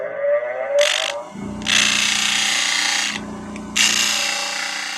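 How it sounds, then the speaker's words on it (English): A disc sander whines steadily in bursts as wood is pressed against it, three sustained grinding passes separated by brief pauses, loud and close. "You give me a second on the disc sander."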